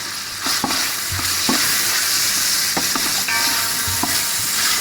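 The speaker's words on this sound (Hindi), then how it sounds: "अब हम इसमें टमाटर डालेंगे।" Chicken and tomatoes sizzle loudly in a pan for macaroni, a dense continuous frying hiss broken by repeated close scraping strokes of a spatula stirring at irregular intervals, with no talking.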